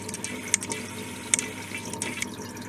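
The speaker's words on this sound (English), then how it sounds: "the water gets pumped up through this pipe and then just goes through sponges" Water pumped through a pipe and sponges in a community aquarium trickle filter makes a steady close trickle with scattered drips and small splashes, with no talk.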